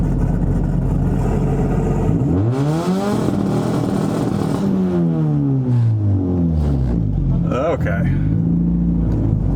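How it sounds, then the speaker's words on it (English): A 1.8 turbo Chevrolet Cruze engine revs hard and bounces off a two-step launch limiter while building boost, rising and falling in loud sweeping pulls close by, with a brief spoken word near the end. "Let's see if we can build boost this time on two-step."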